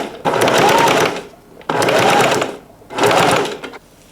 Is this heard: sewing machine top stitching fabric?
yes